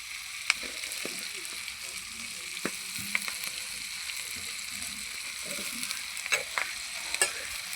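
Cabbage, greens and potatoes fry in a pan with a soft, steady sizzle and occasional light clicks of stirring, fairly quiet and close.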